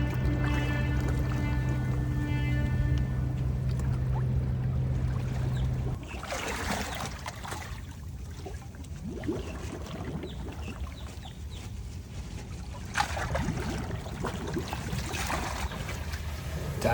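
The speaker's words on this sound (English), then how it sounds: "Divers are cleaning the boat right now, and it sounds really weird hearing them scrubbing the outside of the hull and all the bubbles as they swim around" Divers scrub a boat's hull from underwater, heard from inside as muffled scraping and bubbling swirls against the hull, with a steady low hum fading out early on; faint throughout.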